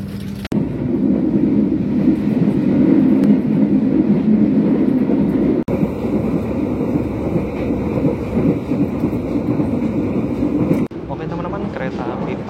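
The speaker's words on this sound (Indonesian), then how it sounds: "Kereta api Fajar Utama Solo sudah berangkat dari stasiun Purwokerto tepat pukul 11:13" Fajar Utama Solo passenger train pulling out of Purwokerto station, a steady loud low rumble of wheels and carriage noise running throughout, with brief breaks in the roar.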